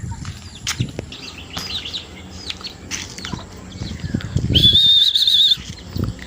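A racing pigeon's wings flap in a short burst as it lands during training, with outdoor noise around and a brief high chirping tone near the end.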